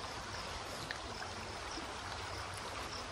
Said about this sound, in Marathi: हे पाणी दिसतंय का, पूर आल्यागत कसं आहे